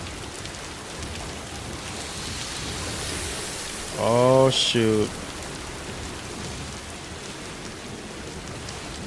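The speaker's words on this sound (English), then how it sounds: "Oh, we got rain." Rain falls in the video game Death Stranding 2 as a steady, moderate hiss that continues throughout, briefly interrupted midway by a man's short spoken remark.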